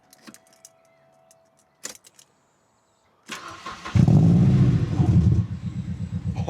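A car engine fired for the first time after a new exhaust was fitted: a few quiet clicks and rattles, then the starter cranks and the engine catches into a loud, deep, rumbling idle that stays up close.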